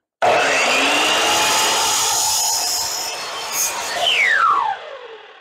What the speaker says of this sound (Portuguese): a hora que eu baixar minha serra, eu vou cortar bem na linha